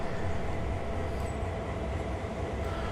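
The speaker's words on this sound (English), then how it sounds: "Check the Union Pacific train out there" Union Pacific train in the Rocky Road scenario of the video game Train Sim World 2020, a steady, loud, continuous rumble of rolling rail cars and engine drone with no talking.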